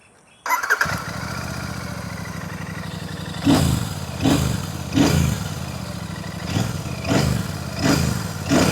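A Royal Enfield Super Meteor 650 motorcycle with its stock exhaust starts up and settles into a steady, close idle, then takes a series of rhythmic throttle blips that give repeated revving surges.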